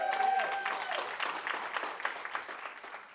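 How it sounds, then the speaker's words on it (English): Audience applause for a speaker at a human rights forum on forced displacement and refugees, a brisk crowd clapping that follows a fading tone and tapers gradually over a few seconds. "I think that deserves a round of applause."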